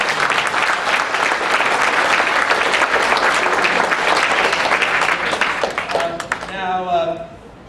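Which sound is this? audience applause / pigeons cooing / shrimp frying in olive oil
audience applause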